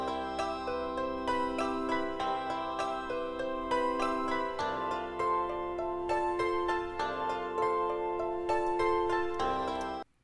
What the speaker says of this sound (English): even though obviously it's only plucked Nagoya harp samples